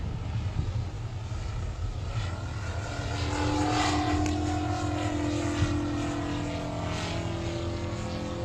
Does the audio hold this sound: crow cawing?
no